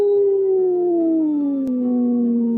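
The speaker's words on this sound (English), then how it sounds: "When the direwolf howled again, Tyrion shut the heavy leather-bound cover o" A direwolf's single long howl, a sustained wavering tone that slowly slides downward over a few seconds, loud and close with nothing else around it.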